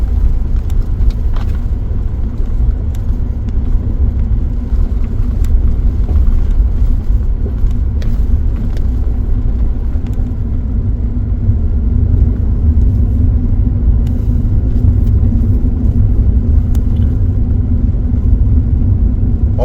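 A truck cruises along on an overland trail in Idaho, a loud, steady low engine and road rumble heard from inside the cab, with faint rattles and no talk.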